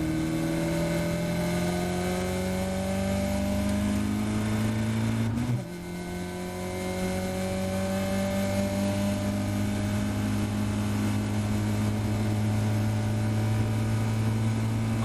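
A Caterham race car on the Silverstone Grand Prix circuit holds a loud, sustained engine drone with a steadily rising pitch, a brief gear-change dip midway, then climbing again.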